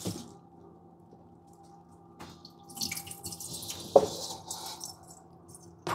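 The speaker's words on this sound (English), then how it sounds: "So I'm going to pour this water out." Rinse water is poured out of a container into a sink, a brief splashing gush with a few drips and wet squishes, close and fairly quiet against a still background.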